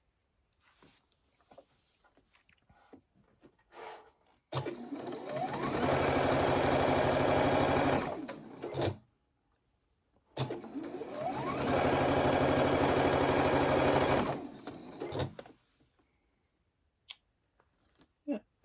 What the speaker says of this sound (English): just making sure I'm sewing these together correctly